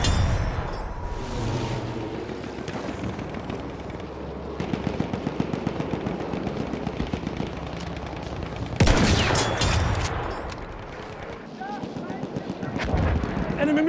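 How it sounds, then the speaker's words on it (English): Rapid machine gun fire in the Battlefield 1 video game, dense bursts of gunshots and explosions running throughout, loud and close, with shouted in-game voices over the battle. "Look out! Machine gun!"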